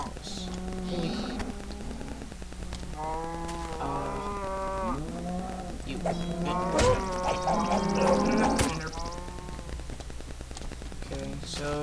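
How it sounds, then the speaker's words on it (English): Several Minecraft cows moo repeatedly in overlapping, drawn-out calls, fairly close and steady, with a couple of sharp clicks or thumps from the game mixed in. "That's a lot of cows."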